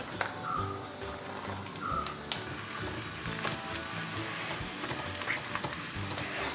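Taro stems sizzling as they fry in a pan, a dense continuous crackle with intermittent stirring knocks and scrapes, close and fairly loud, with no one talking.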